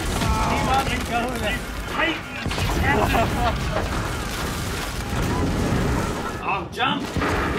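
Explosion from the TV show Black Sails, a loud, dense rumble of booms and crackling blasts that runs throughout, with people talking over it.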